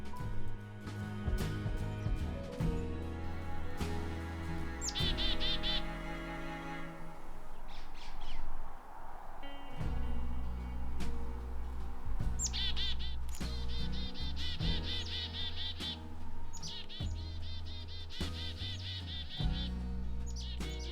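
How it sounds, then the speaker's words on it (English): Loud, energetic black-capped chickadees call in winter woods, repeated bright chirping bursts close by with busy layered song and calls throughout, no talking. "Some very loud and energetic black-capped chickadees came across my path next."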